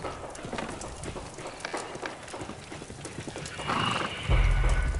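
A startled horse gives a loud whinny over clattering hooves and carriage noise in an accident scene, and a heavy low rumble swells near the end.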